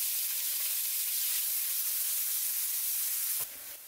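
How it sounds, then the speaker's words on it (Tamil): Chopped large onion sizzles steadily in hot oil while being sautéed for green peas kurma, a loud continuous frying hiss that drops off abruptly near the end. "இந்த வெங்காயம் கொஞ்சம் பொன்னிற ஆகுறது வரைக்கும் அதை லைட்டா வதக்கிக்கோங்க"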